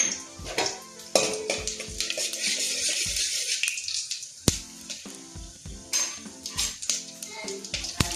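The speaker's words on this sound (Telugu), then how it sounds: "చూడండి, ఆవాలు జీలకర్ర అయితే చిటపట్లాడుతున్నాయండి" Mustard seeds and cumin splutter in hot oil in a pan, a close crackle and sizzle broken by clinks of a utensil against the cookware.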